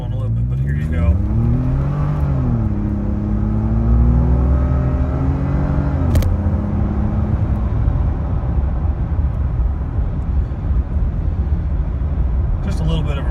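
A car pulls away hard from a red light, its engine note climbing through the revs, dropping at a gear change and climbing again, loud and close from inside the cabin while someone talks over it.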